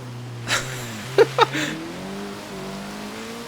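A Honda Civic Type R (2016) driving on snow in Forza Horizon 3, its engine tone rising and shifting with brief tyre and revving bursts, fairly quiet and steady with no talk over it.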